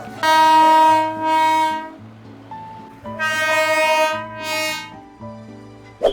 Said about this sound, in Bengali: এখানেই হচ্ছে টয় ট্রেনকে এইভাবে ঘোরায়, সেই জন্য জিনিসটার নাম বাতাসিয়া লুপ